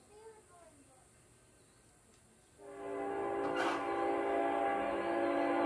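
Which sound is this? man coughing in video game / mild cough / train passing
train passing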